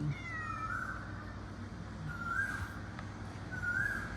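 A cat meows three times, drawn-out plaintive calls spaced a second or so apart, close and moderately loud over quiet room noise.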